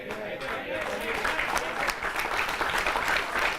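Audience clapping at a Holi comedy poetry show, dense steady applause filling the whole stretch, fairly loud and close, with some speech-like murmur mixed in.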